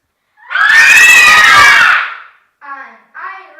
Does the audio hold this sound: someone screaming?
yes